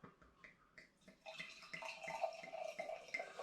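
Home-brewed 8.3% rum and apricot strong ale pours from a bottle into a glass, faint at first then a louder, steady liquid gurgle and splash with small ticking drips, heard alone and close.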